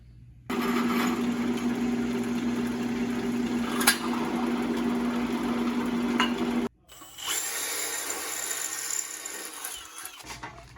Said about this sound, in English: I want to drill through here